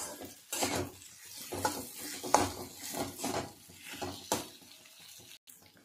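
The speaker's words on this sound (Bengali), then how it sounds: "খুব ভালো করে আমি আলুটাকে একটু কষে নেব এই মশলার সঙ্গে" Potatoes being stirred and fried with spices and a little ginger paste in a pan, with repeated scraping, rubbing strokes of a spoon over a soft sizzle, close and steady with no talking.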